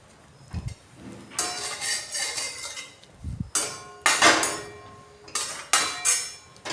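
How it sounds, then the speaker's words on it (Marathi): Grated coconut is roasted in a pan for rava laddu with a spatula or spoon. Irregular metallic scrapes and clinks against the pan come in short bursts, close up and without talk. "खोबऱ्याला पण लालसर भाजून घ्यायचं आहे हलकं हलकं भाजून घ्यायचं आहे"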